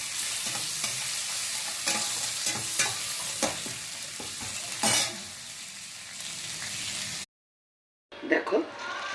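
Ginger paste frying in a pan with chilies and bay leaf is stirred with a spoon, giving a close, steady sizzle broken by repeated scraping strokes, then a short silence and a few more scrapes.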